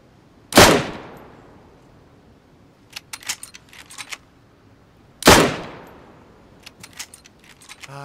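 Two sharp, loud gunshots crack in DayZ, spaced about five seconds apart, each decaying quickly and followed by faint metallic clinks and rattles.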